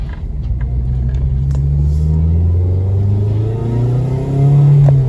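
A Honda Civic DX with a swapped K20Z3 engine and popcorn-tuned exhaust revs up and falls back, the engine tone sweeping through rising pitches with a louder rev at the end and a few sharp crackles near the start.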